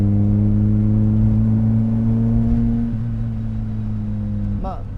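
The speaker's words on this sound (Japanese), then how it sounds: "4000回転ねちょっとぐらいでシフトをしていくとエキゾーストの音がすごく気持ちいいですよね" Lotus Elise R Special open-top sports car exhaust note, a steady loud engine drone near 4000 rpm that dips briefly at a gear change around three seconds and settles lower, with a short rising whine near the end.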